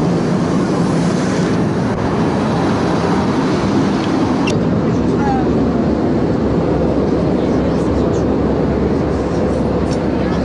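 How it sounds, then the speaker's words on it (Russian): Airplane cabin during descent toward Moscow, a loud, steady broadband roar of engines and airflow filling the whole stretch without pause. "Приближаемся к Москве, самолет пошел на снижение."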